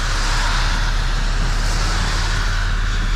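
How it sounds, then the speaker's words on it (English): Steady road noise from cars moving at ordinary speed on a public road, a constant broad rush with a low rumble and no clear single pass-by, with no talking. "You can hear how fast people are driving."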